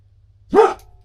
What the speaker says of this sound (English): Coyotes are right outside.